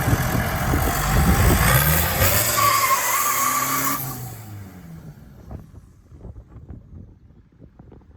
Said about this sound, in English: Can we do a burnout?